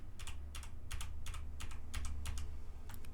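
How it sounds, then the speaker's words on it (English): A computer keyboard clacks about eight times in a steady rhythm, one key press roughly every half second, fairly close over a low background hum with no talking. "So you can hear the keyboard clack as I go from frame to frame"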